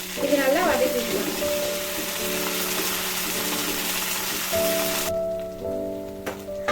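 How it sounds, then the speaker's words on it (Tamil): Mint leaves hit hot oil in a kadai with a loud, dense crackling sizzle that carries on steadily, while tonal hum and clatter sit behind it. "எண்ணெய் ஹீட் ஆயிடுச்சு. அதுல புதினா சேர்த்துக்கலாம். இது நல்லா வதக்கிக்கலாம்."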